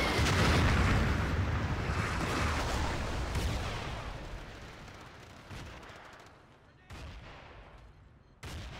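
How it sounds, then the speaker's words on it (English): Battlefield 2 artillery fire pounds down as a heavy, rumbling barrage that starts loud and slowly fades, with a few later sharp blasts breaking through. "Oldies with the follow-up artillery to be sure"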